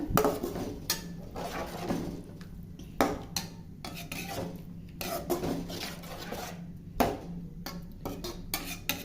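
Repeated scraping and clinking of a utensil against a pan while stirring a puffed rice (pori) dish with a little water, steady rhythmic stirring with a low background hum, no talking.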